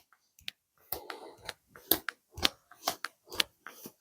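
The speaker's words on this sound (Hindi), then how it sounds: "तो आप इस तरीके से कम 1-2 मिनट रोजाना सुबह शाम ताली बजा के देखिए।" Hands clapping in a steady, even rhythm as a daily hand-therapy exercise for arthritis relief, about a dozen crisp, close claps spaced roughly half a second apart with brief silences between.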